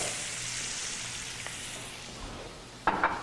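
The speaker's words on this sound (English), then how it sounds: "we'll add our onions right to the pan" Onions sweat over lowered heat in a pan with a soft, even sizzle and faint crackle, close and quiet, broken near the end by a couple of sharp clinks.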